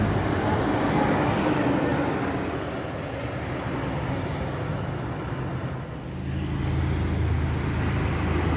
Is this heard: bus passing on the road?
yes